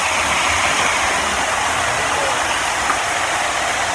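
A waterfall in Yellow Springs park roars as a steady broadband rush of falling water, loud and close, continuing without a break.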